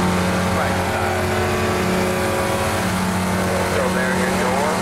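A Spec Racer Ford race car roars at Daytona in the iRacing sim against AI opponents, its loud, sustained engine drone holding nearly steady with slight pitch shifts as it runs flat out.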